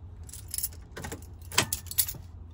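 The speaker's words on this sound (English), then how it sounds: "you turn the ignition on here" Keys jangling as a car key turns in the ignition of a VW T5 Transporter van, a few close metallic clinks and rattles over a short span.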